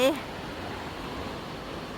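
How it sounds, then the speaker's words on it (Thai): A continuous wash of flowing water, steady and moderately loud, with a brief voice at the very start. "เสียงน้ำไหล"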